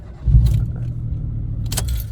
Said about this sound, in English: I went to start it and the car cut out.